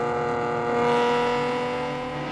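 A Datsun 240Z engine droning steadily while driving on the Crest road, a sustained mid-pitched note that swells slightly and then eases, loud and close with no talk.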